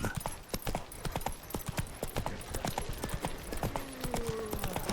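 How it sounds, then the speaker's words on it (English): A horse gallops in The Witcher 3, the hooves drumming a fast, steady clip-clop rhythm up close under ambient game sound, with a faint whinny and brief voices in the background. "Run, Roach."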